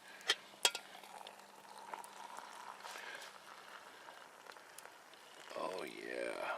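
Water boils in a pot over a small DIY wood-burning stick stove outdoors, a soft steady bubbling and hiss with a few sharp clicks, and someone talks near the end.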